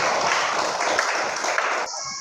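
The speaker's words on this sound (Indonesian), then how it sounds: "tepuk tangan untuk semuanya yang masih ingat" Children applauding together in a classroom, a dense, steady patter of many small hands clapping close by that carries on for about two seconds before stopping abruptly.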